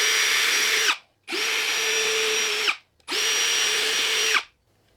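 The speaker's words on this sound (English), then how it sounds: "I'm just going to drill some pilot holes in this support piece." A power drill boring pilot holes into a wooden support piece, three loud close bursts of steady whine separated by brief pauses.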